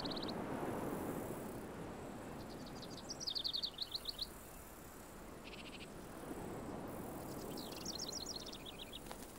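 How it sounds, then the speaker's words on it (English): Small birds call on Santa Catalina Island in the Gulf of California, with bursts of high chirps and twitters in two clusters over steady low insect-like and ambient noise, fairly faint and distant. "The island teems with small birds."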